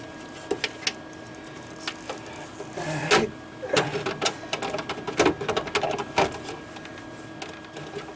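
Screws are driven in to mount a new boat bilge blower. Short, whirring motor bursts stop and start irregularly, close up, with faint clicks and handling noise between them.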